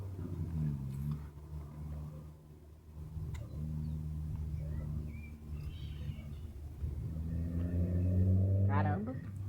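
A Chevrolet Astra with a straight-pipe exhaust revs in rising and falling surges, a loud, throaty engine drone that climbs sharply near the end, with voices talking over it.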